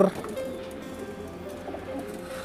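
High flyer pigeons coo in low, soft, repeated murmurs close by, with a brief faint voice at the start.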